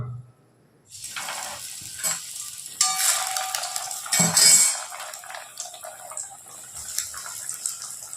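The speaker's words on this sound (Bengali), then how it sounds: "এই ফিশ ফ্রাইগুলো একটা একটা করে ছেড়ে দেবো আমরা একদম লো ফ্লেমে ভাজবো" Fish fry pieces dropped one by one into oil on a low flame give a steady sizzle that swells as each piece goes in, then settles into a continuous frying hiss, close and moderately loud.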